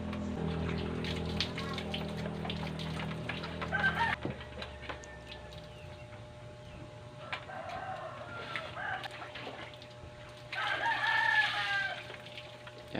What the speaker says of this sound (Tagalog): pagpasensyahan nyo na mga higala at maingay yung alagang manok natin